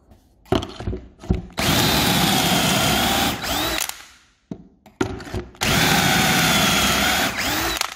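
A power drill bores a pocket hole into wood through a Kreg jig, with two sustained loud whirring bursts of a couple of seconds each, separated by short starts, stops and handling noise nearby.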